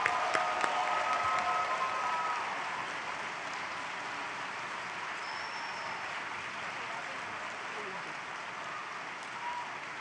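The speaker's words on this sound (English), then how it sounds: "So why don't we applaud the grads?" An audience at a university spring convocation applauds the graduates with sustained, even clapping that starts strongest and settles into a softer, steady patter, with no voices over it.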